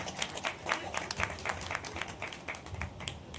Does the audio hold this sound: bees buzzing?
no